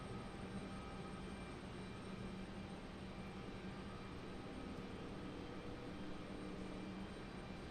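Republic Airways jet airliner at Raleigh-Durham airport, a faint, distant, steady engine rumble and hiss held evenly throughout, no voices.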